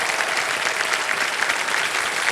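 A studio audience on the Kaun Banega Crorepati quiz show bursts into loud, sustained applause, a thick, steady roar of clapping that stays even from start to finish.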